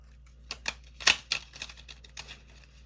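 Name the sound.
shuffling tarot cards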